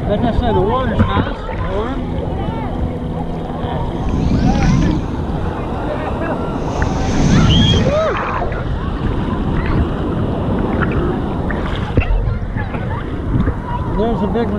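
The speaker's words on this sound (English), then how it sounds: "The waves aren't too bad." Ocean waves wash and break along a beach, a steady roar under gusting wind noise on the microphone, with people talking close by.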